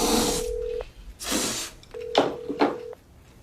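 Touch-tone dialing beeps of a phone call, a short run of steady electronic tones sounding in a few separate bursts with brief gaps, fairly quiet and with no voices.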